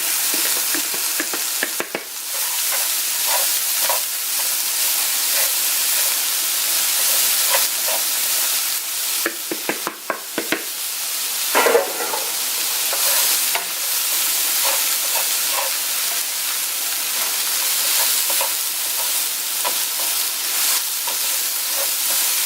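Cauliflower fries in a hot pan, a loud, steady sizzle and hiss with repeated scraping and clattering bursts as it is stirred, close up and continuous with no voices.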